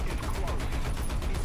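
Shells strike an armored vehicle in the War Thunder video game. Dense, loud percussive impacts and gunfire rattle continuously over rumbling battle noise.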